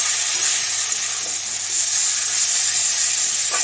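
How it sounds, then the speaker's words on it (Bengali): Shredded cabbage fries in a pan with a loud, dense, unbroken sizzle and steamy hiss, close and steady throughout, with no talking. "এদিকে পাতাকপি ভাজা হচ্ছে"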